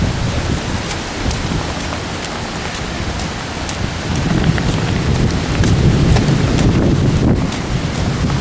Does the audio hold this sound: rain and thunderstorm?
yes